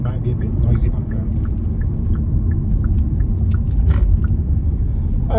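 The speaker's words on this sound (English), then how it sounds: "I'm not driving, but I'm sat in a car, so it might be a bit noisy background." A low, steady rumble fills the cabin of a parked car, with faint small ticks and clicks scattered over it throughout.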